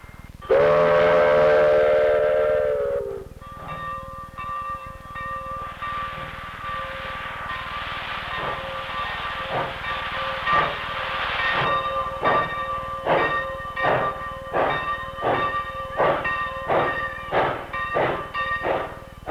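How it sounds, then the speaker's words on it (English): A loud steam whistle blast, then a Baldwin Mikado-type 90-ton superheated steam locomotive pulls away uphill with rhythmic chuffing exhaust that grows steadily sharper and quicker. "One blast on the whistle and away for her final run up the hill."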